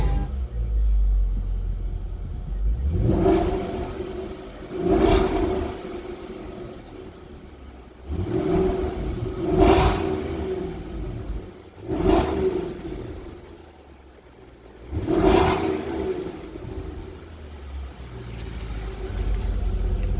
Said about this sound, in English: I'll open up the exhaust flaps.